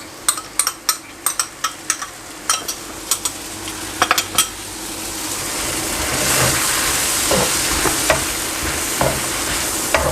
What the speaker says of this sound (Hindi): अभी इसमें मैं शामिल कर दूंगा जो मैंने पा थाई सॉस बना के रखा हुआ है